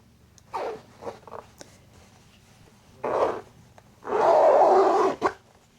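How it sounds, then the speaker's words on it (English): Invisible zipper on denim jeans being zipped in several short raspy strokes, then one long loud pull close to the listener, no talking. "moment of truth is actually zipping the zippers"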